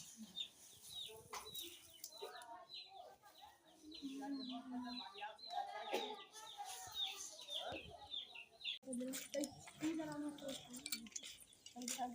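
Chickens cluck and chatter repeatedly at a rural village home, a busy flock close by with people talking over much of it.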